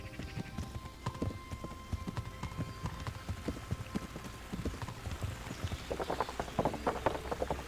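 Horse hooves clip-clop steadily on the ground in the medieval video game Kingdom Come: Deliverance, a close, moderately quiet rhythmic gait that grows slightly louder toward the end, with soft background ambience.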